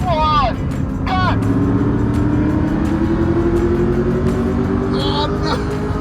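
A Ferrari and a Rolls Royce accelerate side by side in a drag race, engines roaring loudly and climbing steadily in pitch, while excited voices shout over them.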